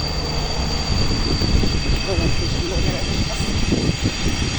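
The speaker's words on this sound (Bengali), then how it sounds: "এই রেলগাড়ি কি সুন্দর করে যাইতেছে দেখেন মোড়টা ঘুরছে" A train rumbles steadily past at moderate distance while rounding a bend, a continuous broadband roar with faint squeals, and voices talk over it.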